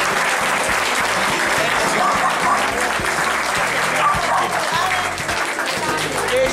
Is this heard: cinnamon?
no